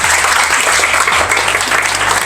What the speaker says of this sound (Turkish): Bence kocaman bir alkış kendinize.